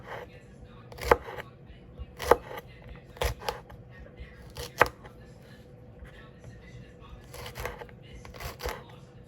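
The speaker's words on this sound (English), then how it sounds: "I'm slicing it up because sometimes I like to have my okra sliced and slices rather than wholes" A knife slices fresh okra on a cutting board for freezing, producing sharp, distinct chops that come in small irregular clusters, close and fairly loud.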